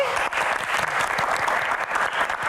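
A studio audience at a talk show claps steadily for panelist Kang Maman Serman, a dense, even wash of applause filling the room without voices.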